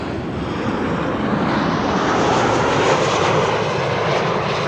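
An airliner arriving at Amsterdam Schiphol Airport roars steadily overhead, a loud, continuous broadband engine rumble that swells slightly as it passes, with no voices.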